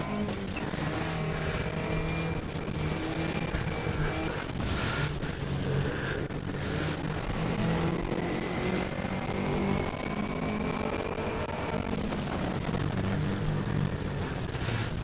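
A rally car engine drones steadily through a video game rally stage, held in one gear at sustained revs with a rushing, wind-like roar and occasional bumps, loud and close throughout.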